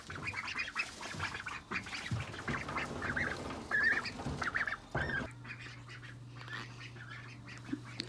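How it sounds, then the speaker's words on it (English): A flock of ducks quacks and honks continuously, busy overlapping calls up close, with a steady low hum joining in toward the end. "They're starting to sound like ducks."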